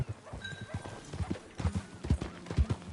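Horse hooves clip-clop at a walking pace in Red Dead Redemption 2, with uneven thuds under a faint high tone and soft ambient sounds.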